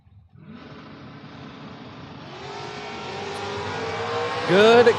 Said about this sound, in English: Good, clean drag race